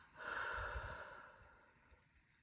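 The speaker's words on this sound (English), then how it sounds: "when I breathe out, I'm going to breathe out through my mouth" A single long breath pushed out through the mouth, a close, breathy rushing exhale that swells quickly and then fades gradually over about two seconds.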